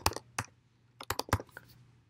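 Typing on a computer keyboard, a few quick clustered key clicks in irregular bursts, close and fairly soft, with no voices.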